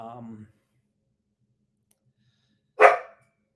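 A puppy gives a single sharp, loud bark nearby, preceded by a brief stretch of speech and then silence.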